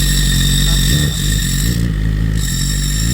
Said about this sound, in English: Go ahead, pull the clutch and pop it in gear.